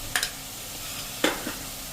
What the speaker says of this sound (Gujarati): અને એને પણ આપણે સરસ આ તેલમાં જરા રોસ્ટ કરી લેશું